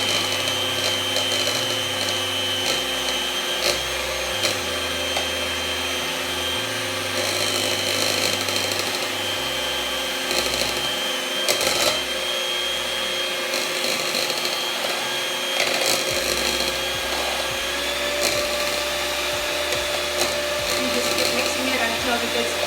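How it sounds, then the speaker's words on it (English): Electric mixer beating egg whites with sugar and cream of tartar for an ube roll, a constant whirring hum whose pitch shifts in steps as the speed changes, close and steady throughout. "just blend in the egg white. Mix it until it gets thicker"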